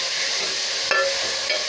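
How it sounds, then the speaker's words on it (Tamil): Green mochai beans stir-frying in a hot pan for a Coimbatore-style kuzhambu, a steady close sizzle with two brief scraping stirs partway through and no talk. "மொச்சையை போட்டுட்டு நல்லா பரட்டலாங்க"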